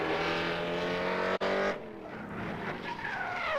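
A Formula Drift Pro-Spec car launches into its knockout qualifying run at the Salt Lake City round, with a loud, steady engine drone near and up close, then a brief cutoff followed by a rougher burst of throttle and tire squeal.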